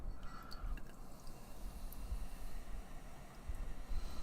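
Unfiltered golden ale pours from a bottle into a glass, a soft continuous gurgling fill with faint drips and fizz, quiet and close.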